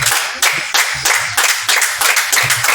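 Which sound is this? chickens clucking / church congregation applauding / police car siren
church congregation applauding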